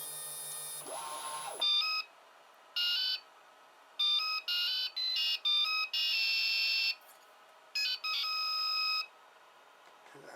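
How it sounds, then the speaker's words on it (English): Small electronic buzzer on an LCD 12864 display project, mounted in a plastic box, playing a tune in bright square-wave beeps of varying pitch and length, with short pauses between phrases. "even the sound of the music it's playing, the buzzer, sounds well clearer"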